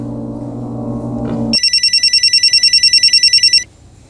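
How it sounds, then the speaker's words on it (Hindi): A telephone rings in a tense domestic scene, a bright electronic trill repeating in rapid pulses for about two seconds before cutting off, loud and alone after a low tonal sound fades out. "फोन बज रहा है, फोन उठाओ।"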